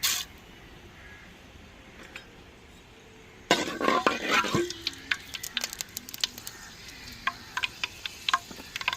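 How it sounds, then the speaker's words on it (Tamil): Fenugreek seeds dropped into hot oil in a pan on a stove, starting partway through with a sudden burst of close crackling and sizzling that settles into scattered sharp pops over a soft hiss. "எண்ணெய் சூடாச்சுங்க, வெந்தயம் போட்டுக்கிறோம்."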